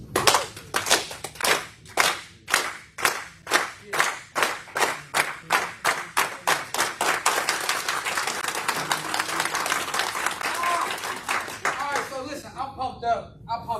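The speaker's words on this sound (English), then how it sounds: "Can I get some claps?" An audience at a BBMS 2022 speaking event claps in unison, loud sharp beats at a steady rhythm that quicken and blur into continuous applause before fading out near the end.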